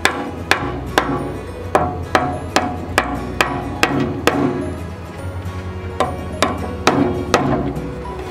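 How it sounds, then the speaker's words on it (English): Sharp hammer blows drive glued wooden dowels into holes in a steady, repeated rhythm, about a dozen loud close knocks with short pauses between. "And hammer dowels."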